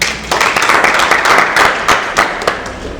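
Audience applause fills a concert hall in Gitega, Burundi: dense, steady clapping from many hands, fairly loud and close, rippling on for about three seconds with a few sharper claps standing out.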